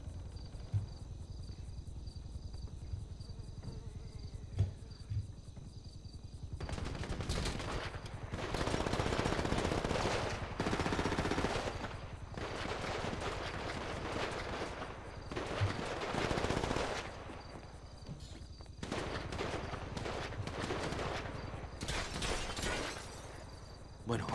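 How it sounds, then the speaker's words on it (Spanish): Bursts of rapid automatic gunfire in GTA V come in repeated volleys, loud and sustained, with short pauses between them and some talking beneath. "Estás escuchando los tiros, ¿no?"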